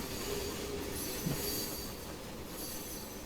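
A historical 4-4-0 steam locomotive running at speed in the train simulator Trainz 2019, a steady rolling rumble and hiss with a faint brief squeal, chuffing barely present, no talk.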